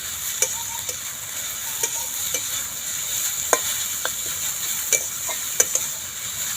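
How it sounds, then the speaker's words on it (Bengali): Grated pumpkin batter being stirred in a pan: a soft sizzle under scattered sharp clicks and scrapes of the spatula against the pan, close and without talking. "দিয়ে ভালো করে নাড়াচাড়া করে নিচ্ছি"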